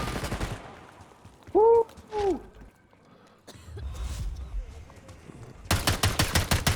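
Bursts of rapid video game gunfire, a fast rattling volley at the end, with scattered shots and a few game sound effects earlier, plus some faint talk.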